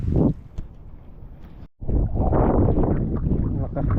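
Strong gusting wind roars over a small fishing boat on open water during a thunderstorm, with broadband buffeting that drops out briefly before surging back loud and constant, and someone talking under the wind.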